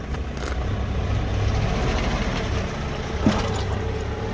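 A Ford Courier diesel, just fitted with new injectors, pulls out of a driveway with a steady low engine rumble close by and a brief knock near the end, no talk.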